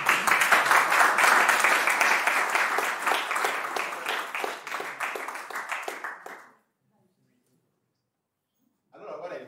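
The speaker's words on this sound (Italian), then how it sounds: "Un applauso." An audience at a conference talk breaks into loud, dense applause that fades gradually over several seconds and then stops, followed by silence and a voice resuming.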